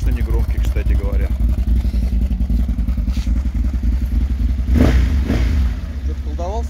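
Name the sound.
ODES 1000 utility vehicle engine and exhaust revving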